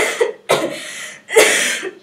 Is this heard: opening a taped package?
no